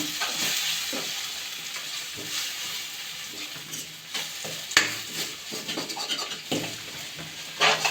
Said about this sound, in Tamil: லோ ஃப்ளேம்லேயே வச்சு கிண்டி விட்டுக்கலாம்